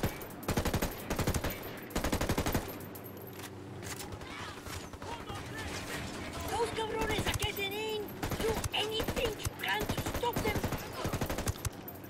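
Bursts of automatic rifle fire aimed at helicopter gunners in Ghost Recon Wildlands, loud rapid volleys at the start and again toward the end, with quieter mechanical clatter and voices between them.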